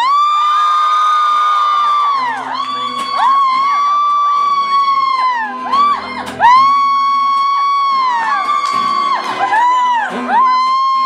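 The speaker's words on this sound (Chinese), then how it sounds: "尖叫" An audience at a small live concert in a Taoyuan café screams and cheers, producing loud, sustained high-pitched shrieks that rise and fall in overlapping waves.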